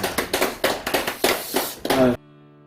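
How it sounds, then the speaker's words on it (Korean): A church congregation gives a short burst of applause, many hands clapping in a brisk, uneven patter for about two seconds before cutting to near silence. "하나님께 영광의 박수"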